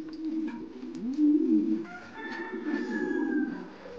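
King pigeons coo close by, giving low, throaty rolling calls in a few soft bursts with short gaps between them.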